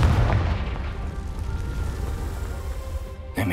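In the Hogwarts Legacy video game, a Confringo fire spell bursts with a deep booming explosion that rumbles and slowly fades, followed by a short sharp noise at the end.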